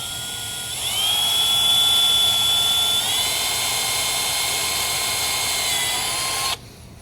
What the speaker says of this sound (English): We're going to drill a hole into the side of this lip here.